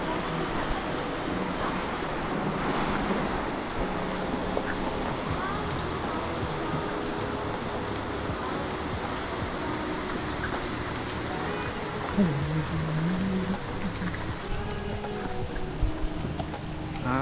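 Rain falling steadily on a wooden bridge in Sangkhla Buri, a continuous close hiss of drops with a faint voice briefly audible partway through.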